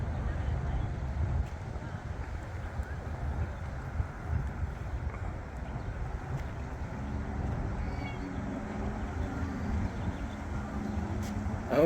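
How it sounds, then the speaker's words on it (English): Strong spring wind gusting during an outdoor walk in Albuquerque, a steady low rumble of buffeting on the microphone that lasts throughout with brief louder gusts. "If you love wind, love a nice cool wind, it's beautiful today."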